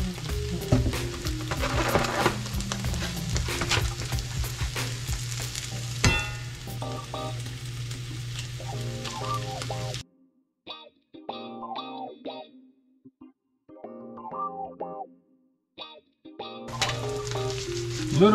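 Eggs and oats sizzle in a hot pan with a steady frying crackle and occasional stirring scrapes, breaking into brief intermittent bursts partway through before the full sizzle returns.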